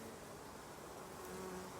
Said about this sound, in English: these bees here are the worker bees, the female workers